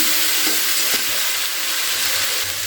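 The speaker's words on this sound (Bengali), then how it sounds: "রসুনগুলোকে একটু বেশ ভালো করে ভাজা ভাজা করে নিচ্ছি" Chopped garlic frying in a pan of hot oil for a prawn and spinach dish gives a steady, dense sizzle that stays loud and even throughout.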